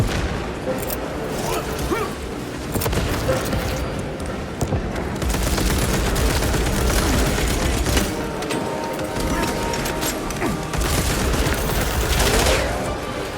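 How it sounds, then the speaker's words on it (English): A frag grenade explosion and sustained gunfire in the Space Marine 2 video game, dense bursts of automatic fire and booms running continuously at high volume with a few shouted voices mixed in. "Frag grenade deployed!"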